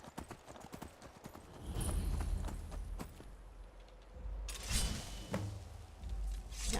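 Shadowmere, a horse in the video game Skyrim, clip-clops along in a steady walking rhythm of close hoofbeats, with occasional game sounds in the background.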